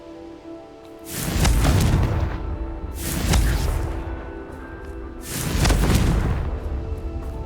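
Confringo explosive spell blasts in the Hogwarts Legacy video game: three loud, booming bursts with whooshing tails, spaced a couple of seconds apart, each swelling and fading into the next.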